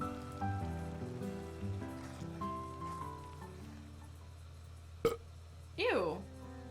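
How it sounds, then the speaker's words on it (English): A loud belch from the character Kaido in the visual novel game ACE Academy: one wavering burst near the end, after a sharp click, over soft background music. "Kaido cleans his plate, then rests a hand on his stomach and lets out a loud belch."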